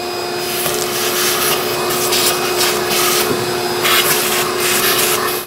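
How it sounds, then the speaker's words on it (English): A vacuum cleaner runs continuously at close range in the engine bay of a 1995-2004 Toyota Tacoma 2.4L four-cylinder, a loud steady whine with rough sucking and rubbing noises shifting as it moves. "I'm just gonna vacuum it."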